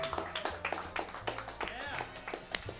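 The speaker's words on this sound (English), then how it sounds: "Thank you very much for that more than polite applause." Light applause from a small studio audience at a campus talk show greeting the host, a patter of scattered hand claps in uneven bursts over room noise.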